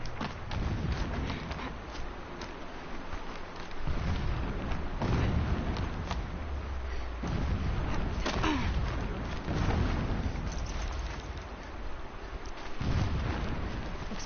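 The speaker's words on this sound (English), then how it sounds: "Explosions in the distance." Distant explosions in the video game Horizon Zero Dawn, a series of heavy rumbling booms rolling in every few seconds over a continuous low, noisy game background, with no talk.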